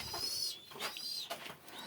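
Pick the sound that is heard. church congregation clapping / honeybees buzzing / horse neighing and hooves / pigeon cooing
pigeon cooing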